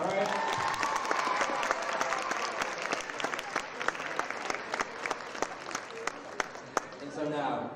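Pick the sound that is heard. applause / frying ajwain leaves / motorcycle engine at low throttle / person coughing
applause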